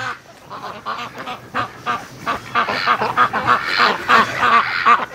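Wintering ducks and geese in a snowy pen quack and honk in a busy, overlapping chorus, close and loud, with rapid repeated calls building toward the end.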